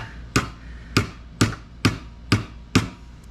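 Six sharp hammer whacks strike the bent latch of an antique mortise door lock, evenly spaced about half a second apart, close and loud with a metallic-wooden crack and no talking.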